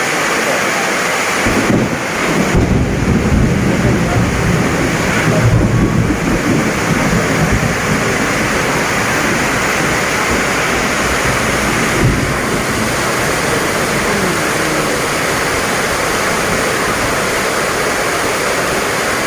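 Steady heavy rain pours down outdoors, a dense loud hiss with gusts of wind noise against the microphone, continuous for the whole stretch with faint talk underneath.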